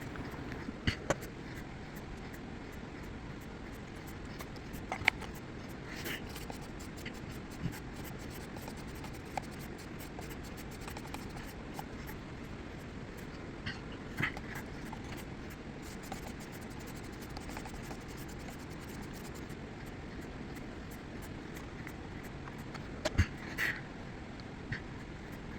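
A knife is drawn across a whetstone in a long run of faint, steady scraping strokes, with a few sharper scrapes and taps along the way and no talking.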